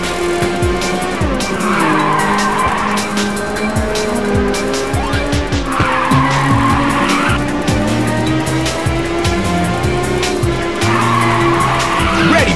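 Race car drifting in the video game Ridge Racers 2 on a mountain course, with loud, continuous engine roar and long screeching tire skids that swell repeatedly in waves through the run.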